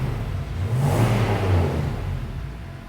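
Turbocharged Nissan Y62 Patrol with a full big exhaust, revving up in one swelling, rowdy surge that peaks and eases back into a throaty drone, loud and close with no talking.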